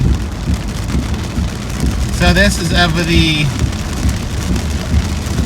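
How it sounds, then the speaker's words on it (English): Rain falling steadily during a road trip from Buffalo to Dayton, a dense, even patter heard close up throughout, with a short burst of speech in the middle. "It is raining!"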